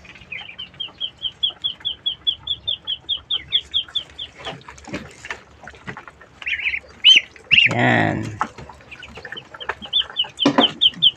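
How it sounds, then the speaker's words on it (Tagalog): A flock of young ducks calling in quick repeated honks at feeding, with a burst of rustling and splashing midway and more calls after; a brief voice speaks once. "Hindi na po yan ducklings, bibe na, ang lalaki na oh."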